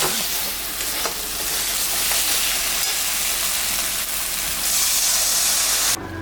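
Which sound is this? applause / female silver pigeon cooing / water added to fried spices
water added to fried spices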